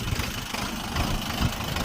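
An Orion 504 four-cylinder tractor engine idles steadily and close by, a continuous low rumble with slight uneven pulsing and no talk.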